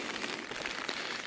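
Rain falls on a quiet, little-used road through Swedish countryside, making a soft, even hiss that holds steady throughout with no other clear sounds.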